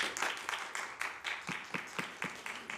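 Audience at a Santa Clara city council meeting clapping, a sparse, faint patter of claps in an uneven rhythm from a small crowd.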